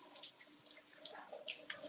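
A bunch of fresh greens being rinsed under a running kitchen tap, a steady close splash of water with small shifts as the leaves move through the stream.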